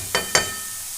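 Carrots, peppers and tomato hit hot oil in a pan with two quick crackling bursts over a steady sizzle.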